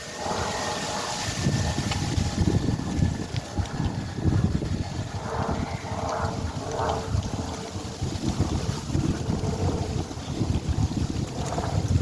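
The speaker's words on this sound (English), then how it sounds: "hold on, I gotta wait for this wind" Outdoors, wind buffets the microphone in continuous low rumbling gusts for the whole stretch, loud and close, with no clear talk over it.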